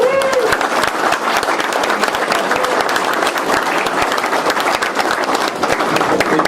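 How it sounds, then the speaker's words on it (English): A large audience at a Tesla town hall meeting in Amsterdam breaks into sustained, dense applause, many hands clapping loudly and evenly from start to finish. "we would like to have an applause for the Dutch organization, for Tesla, with all your employees"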